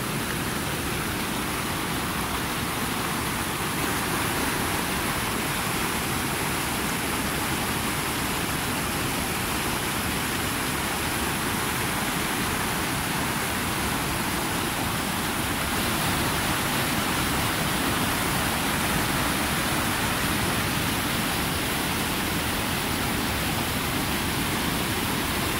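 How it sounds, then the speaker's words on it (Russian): Water flowing steadily past a stone at a spot in nature, a dense, continuous rushing wash like a small stream or cascade, loud and close with no pauses. "Слушайтесь в этот шум воды."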